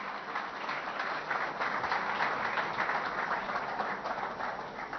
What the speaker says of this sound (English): Let's have a huge round of applause for C.S.